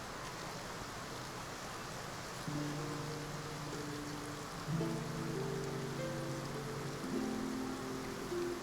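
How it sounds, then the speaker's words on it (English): Steady rain hiss falls in Fontaine in the video game Genshin Impact, a soft continuous wash of drops under sustained musical tones that enter partway through. "It's raining."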